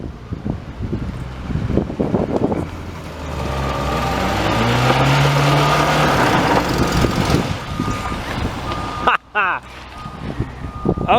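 A scrapped Volvo car being driven, its engine note rising into a loud sustained drone with broadband wind and road rush, steady for several seconds before a brief dropout near the end.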